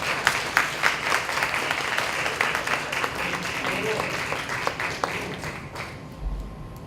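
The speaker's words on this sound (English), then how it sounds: "let's give our panel, our candidates, a rousing round of applause" A room applauds a panel of candidates at a neighborhood priority board candidates' forum, steady dense clapping with a few sharper claps standing out, fading out near the end.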